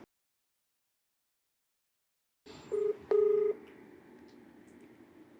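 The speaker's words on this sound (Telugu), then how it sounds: "నేను కాల్ చేస్తాను ఒకసారి ఆయనకి" A telephone number dialed on a keypad phone: after silence, a faint line hiss opens, then two steady touch-tone beeps sound, the second one longer, followed by a low background hum.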